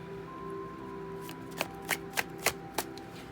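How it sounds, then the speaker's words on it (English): Tarot cards being shuffled by hand: after a quiet stretch with a faint steady hum, five crisp riffling bursts come in a loose rhythm, close and distinct, with no voices. "I'm going to shuffle one more time for air signs regarding work this month"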